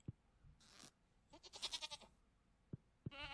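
A farm goat in the video game Stardew Valley gives a short bleat, then a quieter wavering bleat, faint and close amid light game sounds.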